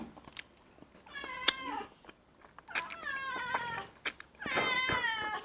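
A cat meows several times up close, drawn-out, wavering cries with short pauses between them, rising into a longer, louder wail at the end, with no talk over them.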